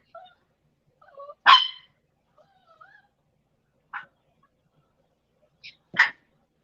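A dog indoors near a door gives a few sharp, separate barks spread over several seconds, each short and moderately loud, with faint whines or vocal sounds between them.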